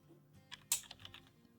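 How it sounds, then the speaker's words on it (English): Quiet typing on a computer keyboard, a short run of soft clicking keystrokes with one sharper key press, close by and alone. "we want to type the name Stelios in cell D5, we click cell D5 and start typing,"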